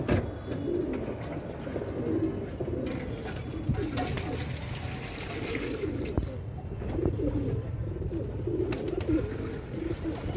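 Soft, low cooing from racing pigeons in Delhi murmurs steadily throughout, with faint chirps and background voices mixed in.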